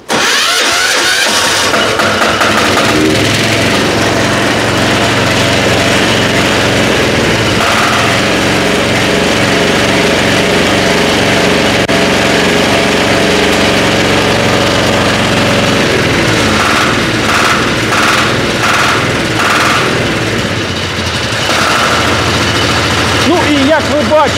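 A 14-horsepower diesel walk-behind tractor engine runs loud and close in cold winter conditions. It makes a steady, continuous chugging roar that lasts the whole stretch, with some voices faintly mixed in.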